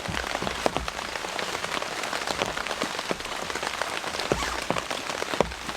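Rain falling on a blue Home Depot tarp shelter at a camp, steady close patter of drops with frequent sharper taps striking the taut plastic, continuous and moderately loud with no voices.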